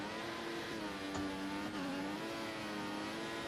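F1 2014 Formula One car at full throttle through a last corner on PS3, its engine a loud, steady high-pitched whine held flat out for several seconds with a slight pitch dip and recovery midway.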